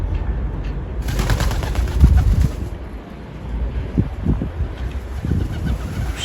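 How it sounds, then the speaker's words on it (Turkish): Pigeons dropping onto a ledge at night give soft cooing and fluttering sounds, close by, partly masked by wind buffeting the microphone. "Kuşlar sekiye dökülmeye başladılar."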